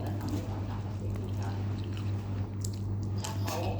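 Someone eats spiced Thai khao mok rice up close, soft wet chewing and squishy mouth sounds over a steady low background hum.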